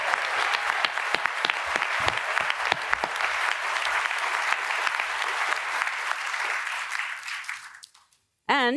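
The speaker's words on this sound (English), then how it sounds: "Let's have a round of applause for our moderator and our panel of journalists." An audience at a 2024 governor candidate forum applauds steadily and fairly close, the clapping fading out near the end before a brief voice cuts in.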